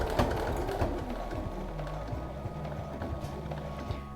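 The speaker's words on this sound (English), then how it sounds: "So I stitch right to the edge of the fabric." Sewing machine stitching right to the edge of cotton fabric for a cot liner, a continuous low rapid whir with steady needle ticking, close and even throughout.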